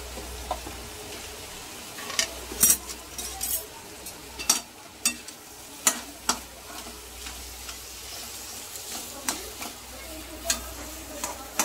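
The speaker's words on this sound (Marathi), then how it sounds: "आता अशा प्रकारे आपल्याला ही समोस्याची भाजी छान अशी मिक्स करून घ्यायची आहे." Samosa potato filling is stirred and mixed in a pan, the spoon scraping and clinking in irregular knocks over a faint steady sizzle, close and moderately loud, with no speech.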